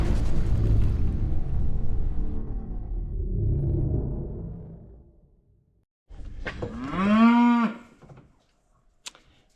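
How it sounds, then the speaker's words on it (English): A cow moos once at a Montana campsite, a loud, close, drawn-out bellow that rises and falls after a stretch of low rumbling background noise, then quiet. "I think that is cow for good morning."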